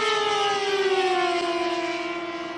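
A jet aircraft coming in to land at a Wangaratta jets event, giving a steady, loud, high whining tone whose pitch slowly falls as it passes, with no voices.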